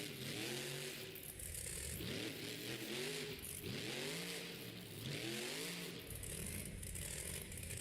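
The Vendetta monster truck's engine revs and surges repeatedly in a stadium Monster Jam show, rising and falling pitch in cycles with rattles and scrapes, loud and fairly close.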